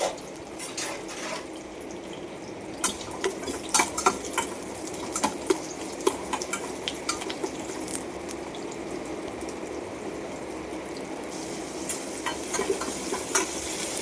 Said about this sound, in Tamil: வடகம் போட்டுட்டு கூடவே கருவேப்பிலை பச்சை மிளகா வெங்காயம் எல்லாத்தையும் போட்டு வதக்கிறேன்